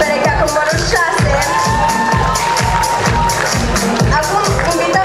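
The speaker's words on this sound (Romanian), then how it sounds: "Aplauze pentru perechea cu numărul 6." A crowd at a school freshmen's ball cheers and shouts for couple number six, a loud mix of whoops and voices over a thumping rhythmic music beat that pulses steadily throughout.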